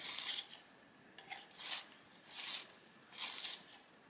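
A coloured pencil is sharpened in a handheld sharpener, producing four bursts of dry rasping, scraping twists separated by short pauses, close and fairly quiet with no talking.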